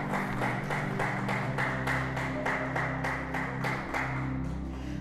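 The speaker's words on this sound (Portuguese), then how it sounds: "pode aplaudir o Senhor" A church congregation claps along in a rhythmic, regular beat at a worship service, the claps steady and moderately loud over a sustained musical drone.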